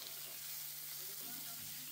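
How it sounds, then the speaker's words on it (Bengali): Garlic and ginger fry in a wok, giving an even, continuous sizzle that stays fairly soft and close for the whole short stretch. "কড়াইয়ের মধ্যে ভাজতে লাগবো"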